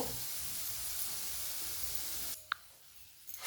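Dried chili powder stirred into a spice paste for soybean rezala, a low steady hiss of oil cooking the masala for a few seconds, then a sudden drop to near quiet broken by a sharp click.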